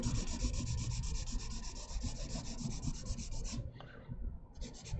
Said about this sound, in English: really scrubbing this in to get a nice smooth surface to work with here